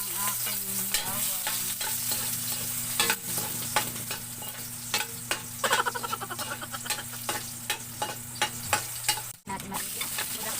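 Garlic sautéing in a hot pan as the base for Filipino apritada, with a steady close sizzle and repeated scraping stirs of a utensil over a low electrical hum.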